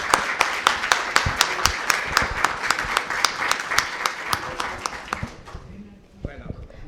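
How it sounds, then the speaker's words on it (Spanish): A lecture audience applauds a speaker with steady, dense clapping that fades out near the end, as a voice begins speaking. "Un aplauso"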